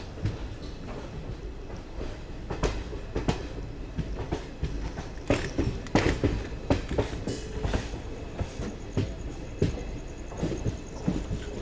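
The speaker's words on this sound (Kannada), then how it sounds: "ಇವ ಬ್ಯಾಂಕರ್ ಲೋಕೋಮೋಟಿವ್ಸ್ ಅಥವಾ ಬ್ರೇಕರ್ ಲೋಕೋಮೋಟಿವ್ಸ್ ಅಂತ ಹೇಳ್ಬೋದು" A train hauled with banker locomotives on the Mangaluru–Bengaluru line near Subrahmanya rolls by close up, wheels beating a rhythmic clickety-clack over rail joints with a heavy rumble underneath, continuous throughout.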